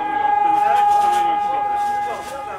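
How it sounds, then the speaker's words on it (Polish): A civil defense siren holds a steady, unbroken tone at one pitch for several seconds during a civil defense exercise, with a voice talking over it. "Zabrzmiały syreny ciągłym dźwiękiem."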